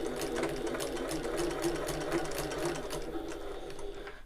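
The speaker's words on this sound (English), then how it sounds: "I'm just going to baste the ends together to start with" A domestic sewing machine bastes the ends of a bag together, a close, continuous whirring hum with a fast regular needle chatter that slows and fades toward the end, with no talking.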